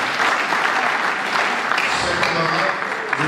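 Audience applause fills a lecture hall at a political talk by a law professor and national deputy, a dense steady patter of many hands held at even loudness for the full length, with no voices over it.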